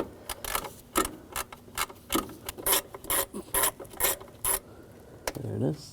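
Ratchet with a T30 socket working a bolt loose on the intake manifold of a 2007-2013 BMW 328i 3.0L inline-six, a close, quick train of dry clicks in short bursts with a brief thud at the end.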